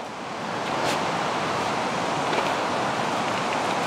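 A mountain river rushing through a rocky gorge, a steady broadband roar of flowing water, fairly close and unbroken, with no voices.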